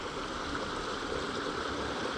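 A village brook flows with a soft, steady rush of water, faint and continuous with no talk over it.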